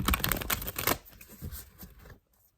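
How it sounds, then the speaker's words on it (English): Tarot cards being shuffled close by, a dense run of riffling flutters for about two seconds that thins out and stops, followed by near silence. "this particular card is very hard to shuffle today"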